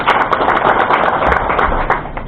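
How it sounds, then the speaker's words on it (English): An audience at a philanthropy gathering applauds the facilitators, a dense, steady burst of many hands clapping close and loud, sustained throughout without talk. "Can we give them a good clap?"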